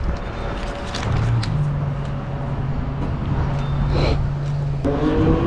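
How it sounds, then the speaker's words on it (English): A Mercedes C63 passes by at night near a gas station, its steady engine drone swelling and lingering for several seconds over busy ambient noise. "That was like a C63."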